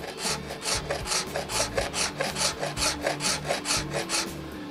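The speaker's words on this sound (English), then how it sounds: "I'm gonna start with filing." A hand file works a carbon fiber SG guitar headstock in steady back-and-forth strokes, about four per second, each a loud, close, gritty rasp in an even rhythm with no talking.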